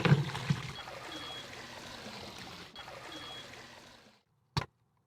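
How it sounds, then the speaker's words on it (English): Water draining out of a Spino E1 pool robot lifted by a hook, a soft trickling and gurgling stream lasting about four seconds before falling silent, followed by one short knock. "And it takes about 5 seconds for all the water to drain out."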